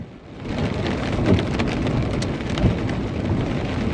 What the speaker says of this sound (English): The rain is coming down quite hard.